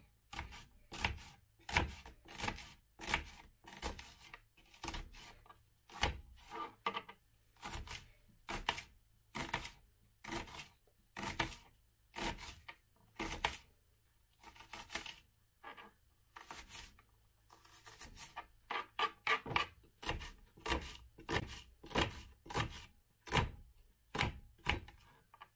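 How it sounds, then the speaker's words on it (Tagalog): Onion is chopped into small pieces on a board with a knife, a long run of sharp, evenly spaced close thuds with brief pauses, quiet and alone. "Hiwain lang natin itong sibuyas ng maliliit."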